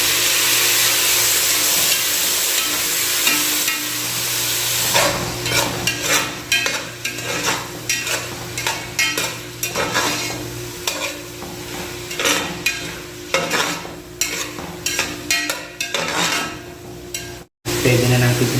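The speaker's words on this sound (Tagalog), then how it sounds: "gisang-gisa na yung ating luya, sibuyas at yung garlic. Sunod natin yung ating kamatis." Tomatoes sauté with ginger, onion and garlic in a pan, giving a constant sizzle broken by frequent scraping and stirring strokes of a utensil against the pan, up close.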